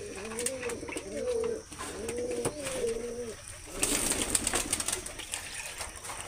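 Pigeons in a loft coo in several rounded, repeated bursts that are close and clear. A brief higher chirp and soft rustling follow.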